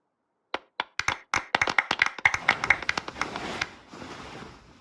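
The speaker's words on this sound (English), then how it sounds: "Let's give our champion Kaveh one last big round of applause." Applause at an award ceremony in the video game Genshin Impact starts with a few scattered claps, then builds into a dense, fast burst of clapping that fades into a softer wash of applause.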